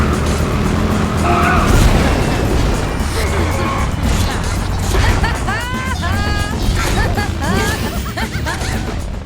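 Race cars in the video game ModNation Racers roaring off the start line, with loud continuous engine noise, tire squeals and skidding, and brief talk over the din.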